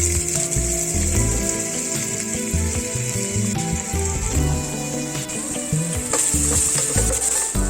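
Shallots and onion sautéing in oil with a pinch of salt and ginger garlic paste give a steady bright sizzle, with scraping stirs and clatter over a constant frying hiss.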